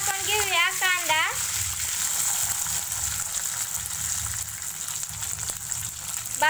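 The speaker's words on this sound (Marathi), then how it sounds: "जिरे मोहरी आपली चांगली तडकत आहे. त्याच्यानंतर टाकून घेऊया कांदा." Cumin and mustard seeds crackle in hot oil, followed by chopped onion hitting the pan, giving a steady, close sizzle with scattered pops and spits; someone speaks briefly at the start over the frying.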